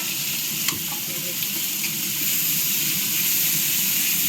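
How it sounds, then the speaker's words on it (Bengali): Rui fish frying in a pan in a home kitchen, a loud, steady, close sizzling hiss of hot oil that holds level throughout with a few faint pops and no voices. "এখানে মা মাছ ভাজা করছে"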